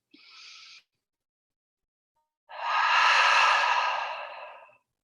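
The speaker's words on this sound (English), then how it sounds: "Take a deep inhale and blow the air out." A deep breath blown out at the end of a seated relaxation practice: a brief soft inhale, a pause, then a long, close, breathy exhale of about two seconds, heard alone with no talking.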